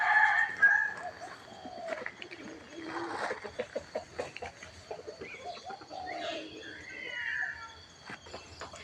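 A rooster crows at a forest Buddhist temple, Wat Pong Chai in Chae Hom, Lampang, on a cool winter morning. The calls are moderately close, mixed with other bird chatter and cooing.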